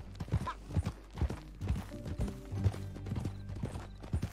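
Horse hooves clip-clop at a walk in the Red Dead Redemption 2 video game, a string of distinct, moderately close thuds in an uneven rhythm over a soft background, with no talk.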